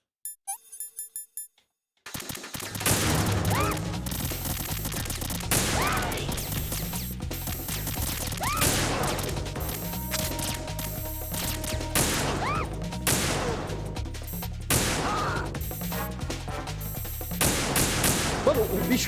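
Rapid gunfire in the video game Metal Gear Solid 2: Sons of Liberty, repeated loud shots and crashes over a continuous game soundtrack, following a brief quiet opening.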